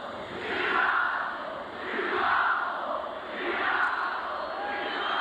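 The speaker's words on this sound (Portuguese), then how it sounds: "Mais do que vaias, Rivaldo também ouviu gritos homofóbicos vindos das arquibancadas" Football stadium crowd jeering and shouting at the player Rivaldo, a loud mass of voices swelling in rhythmic waves like chanting, distant and reverberant.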